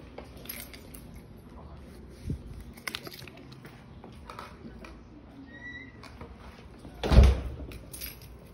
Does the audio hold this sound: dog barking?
no